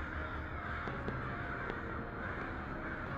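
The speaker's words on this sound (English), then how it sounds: "Oh, that's the crows." Crows caw in the video game Suckle for Love 2, with faint short calls scattered over a dense, steady ambient wash, no speech.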